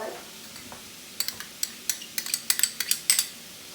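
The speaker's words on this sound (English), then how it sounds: "And now we're going to just stir it and let that kind of stir fry a little bit and let it cook down." Onions, green peppers, spring onions and garlic get stirred in a pan for jambalaya: a soft sizzle underneath with a quickening run of sharp utensil scrapes and clicks against the pan.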